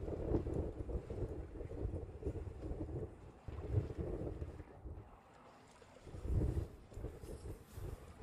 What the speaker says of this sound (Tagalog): Ito'y malawak at sobrang mahangin.